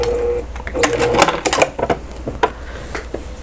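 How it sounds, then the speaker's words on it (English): Sewing machine backstitching near the opening of a French seam sewn with a half-inch allowance, heard as close, loud, stop-start mechanical whirring bursts with brief pauses between runs. "now I'm coming up to the pin where I'm going to back stitch"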